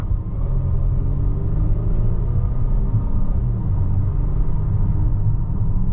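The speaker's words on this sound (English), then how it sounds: "we'll give it a little half throttle acceleration and see what the transmission does" A 2022 Volvo XC90 T6 Momentum accelerates uphill at half throttle, a steady, close, low engine rumble with road noise that holds evenly throughout, no voices.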